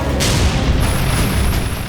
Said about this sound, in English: You see the explosions going off.